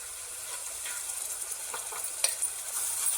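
A spoon stirs roasted coconut paste into spices frying in oil, giving a faint, soft sizzle with scattered light scraping and clinks. No voices are heard.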